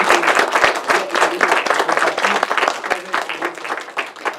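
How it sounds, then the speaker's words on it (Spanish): An audience at a commemoration of the 1968 student movement gives loud, vigorous applause for the doctor, many hands clapping densely and close, sustained for several seconds. "agradecerle con un fuerte aplauso al doctor"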